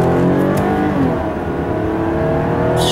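A 3.5L V6 engine in a Toyota Camry, just repaired after oil loss, accelerates hard with a loud, continuous rising growl heard from inside the car, steady and close throughout.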